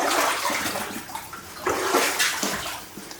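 Water rushing and splashing continuously through an abandoned mine tunnel, a full, noisy gush that surges and eases slightly, echoing a little in the enclosed space.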